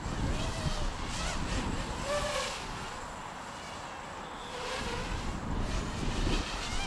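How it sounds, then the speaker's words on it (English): Wind gusts buffet the microphone outdoors, a broad roaring rush mixed with a thin buzzing whine that swells and eases over several seconds. "I hate this wind"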